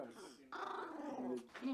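A dog living in a basement shelter in war-torn Bakhmut, Ukraine, growling low and close for under two seconds, with a whiny edge and some voice-like sound mixed in.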